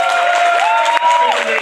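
Brief audience applause at a strike-fund benefit debate and show, crowd clapping with cheering voices and tonal shouts layered over it, loud and close.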